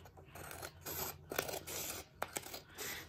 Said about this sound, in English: I am going to use my scissors for that. So I'm cutting right along the edge.